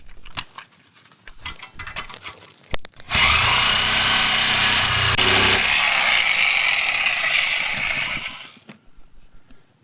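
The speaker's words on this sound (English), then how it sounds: "So for that, we're going to use the Sawzall" A Sawzall reciprocating saw cuts through a rusted car exhaust beneath a Chevy 350 vehicle, a loud, steady buzzing roar starting abruptly and running about five seconds before cutting off, with quieter clanks of metal work before and after.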